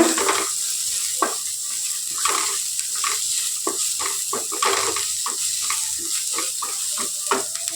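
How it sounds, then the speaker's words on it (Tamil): Onion and capsicum sautéing in oil for red poha fried rice, a steady close sizzle broken by repeated stirring scrapes, no voice over it. "எண்ணெயிலே நல்லா குடமிளகா வதங்கட்டும்"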